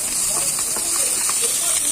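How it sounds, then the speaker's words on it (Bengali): Potatoes fry in hot oil in a wok, giving a steady close sizzle and hiss with small crackles throughout. "এই যে কড়াইতে তেল দিয়ে কটা আলু ভেজে নিচ্ছি"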